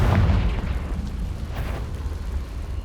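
A Confringo spell explodes in Hogwarts Legacy with a deep, booming blast that rumbles loudly at the start and fades into a lingering low roar.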